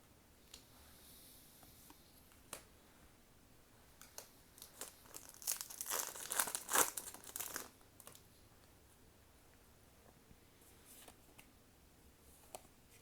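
Shaman King trading card booster packs being torn open, with scattered small ticks and rustles leading to a loud crinkling, ripping burst of foil wrapper in the middle, then quieter handling.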